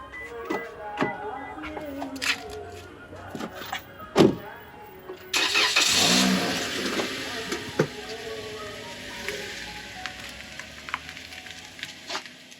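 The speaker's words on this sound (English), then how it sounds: "now I'm gonna take my Lamborghini, painted as a 2012 Toyota Corolla, back to the Burj Al" A Lamborghini painted to look like a 2012 Toyota Corolla starts up and pulls away near the Burj Al Arab hotel. Scattered clicks and knocks lead into a sudden loud engine rush that holds steady to the end.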